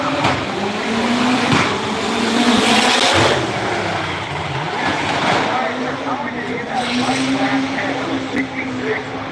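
A race car spins through a 360 donut, its engine droning and tires squealing in a sustained, wavering tone, while a commentator talks steadily over the action.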